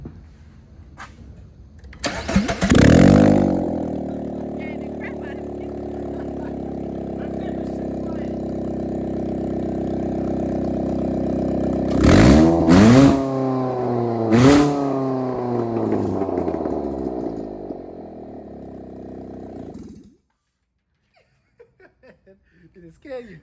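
A worn-out clunker car's engine cranks and fires up with open headers and no exhaust, then idles roughly and revs in loud, rising bursts before cutting off. Someone laughs and people talk nearby.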